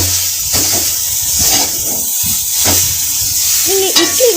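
Masala idli pieces being stirred in a hot pan, with a steady sizzling hiss and repeated scraping strokes of the spoon. A metallic clink comes near the end.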